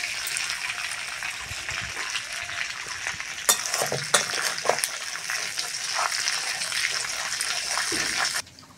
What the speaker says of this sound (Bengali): ওই তেলের মধ্যে 5 ফোড়ন নিয়েছি, দিয়ে দেবো।